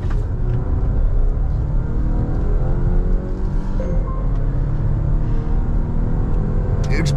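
A Volvo XC60 SUV engine rumbles while driving, a steady low drone with rising harmonic tones as it pulls, heard from inside the cabin with road noise underneath.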